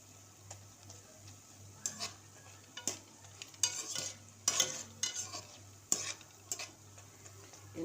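Boondi pearls for motichoor laddu cooking on low heat, a soft, quiet sizzle of frying with intermittent stirring and light scraping clicks of a utensil in the pan, no voices.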